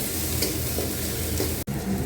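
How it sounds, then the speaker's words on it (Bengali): Ginger and garlic paste fry with onions for chicken tehari, a dense continuous sizzle close up, broken by a short scraping stir. "এর মধ্যে দিয়ে দেব বাকি আদা বাটা আর খানিকটা রসুন বাটা রেখে দিয়েছিলাম সেটা এবার সেটাও বেশ ভালোভাবে ভাজা হবে"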